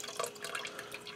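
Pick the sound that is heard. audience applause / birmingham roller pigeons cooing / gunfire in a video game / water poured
water poured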